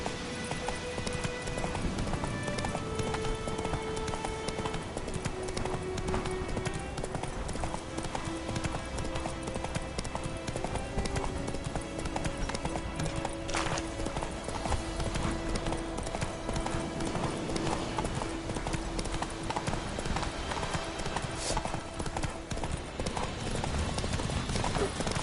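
Roach the horse gallops in The Witcher 3 Wild Hunt, a long run of rapid, rhythmic hoofbeats close by, layered over game music and ambient sound, with steady loudness throughout.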